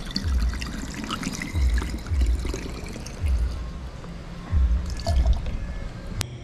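Lambanog, a nipa palm liquor, pours and trickles in short repeated bursts, with low gurgles as it fills a bottle, close by and fairly quiet.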